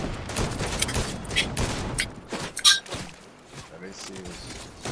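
Game gunfire cracks out in scattered bursts amid a busy multiplayer match, loud and close, with a few sharp louder shots standing out over the background, while players talk over the action.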